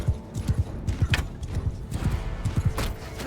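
Cavalry horses charge in the video game Mount and Blade II: Bannerlord, a rapid, rhythmic clatter of hoofbeats close by, steady throughout a few seconds with faint background battle noise.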